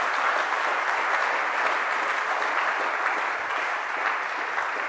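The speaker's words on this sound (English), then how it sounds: "if you could please put your hands together in applause to thank Paul." An audience applauds at the end of a talk at a hacker conference, a steady, dense clapping from a crowd that holds evenly throughout without any voices on top.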